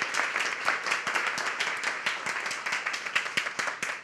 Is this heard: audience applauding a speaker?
yes